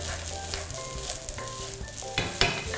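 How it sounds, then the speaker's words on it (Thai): Rice fried with curry powder, shrimp and spring onions is stirred in a hot pan, a close steady sizzle broken by scraping spatula strokes and a few sharper clinks near the end, with no talking. "พอเราคั่วเราผัดข้าวไปอีกเนี่ย มันก็จะสุกเพิ่มอีก"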